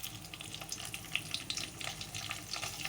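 Dried red chilies and tempering spices frying in hot oil, a faint, crackling sizzle with small pops scattered across the clip, no voices.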